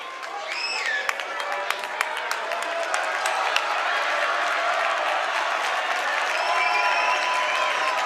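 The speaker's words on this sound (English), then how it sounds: "Both crowds excited and hopping" A crowd cheers and claps steadily at a 5A boys high school state playoff basketball game, Northridge vs. Woods Cross, with a dense roar of applause and scattered sharp squeaks and shouts throughout.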